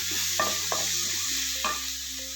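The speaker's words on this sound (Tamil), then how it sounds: "ஆட் பண்ணி நல்லா வதக்கி எடுத்துக்கலாம்." Onions and tomatoes sauté in a pan with a steady, close sizzle, broken by a few quick scraping stirs of a spoon.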